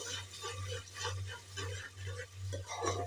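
Tomato puree being stirred into a cooking gravy for guvar batata shaak, soft wet swishing and squelching in a repeating rhythm over a steady low hum, fairly quiet and close.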